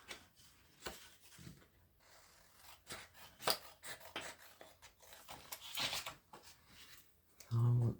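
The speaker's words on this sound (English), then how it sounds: "So I'm going to cut that one out." Scissors cut out a piece of paper ephemera in short, close snips mixed with paper rustling and handling, fairly quiet, with a louder thump near the end.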